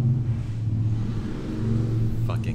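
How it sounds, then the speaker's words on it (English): Loud cars rumble down a street with a deep, continuous engine drone, close and steady, with a brief higher whine near the end. "loud cars driving down the street"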